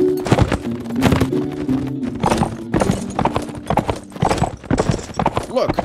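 Horse hooves gallop in the video game Mount & Blade: With Fire & Sword, a loud, close, rapid clip-clop rhythm of repeated hoofbeats with occasional sharper knocks.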